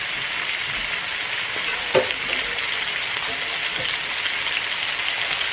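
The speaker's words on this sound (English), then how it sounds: "I'm going to start off by frying 2 chicken breasts each." Steady, close sizzling and spitting of chicken breasts frying in a hot cast iron pan, with a brief clatter of utensil movement partway through.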